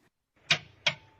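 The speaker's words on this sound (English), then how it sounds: "This is the operating sound of the high-voltage relay." A 2010–2015 Toyota Prius high-voltage relay clicks twice while the car is stopped, two crisp mechanical clicks about a third of a second apart, close and fairly quiet against near silence.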